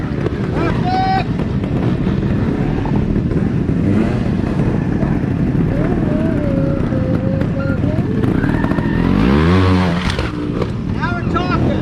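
Motorcycle engine revving hard during wheelie training, loud and continuous with rising and falling pitch and a strong surge near the end, mixed with wind buffeting and a coach's voice calling out over it.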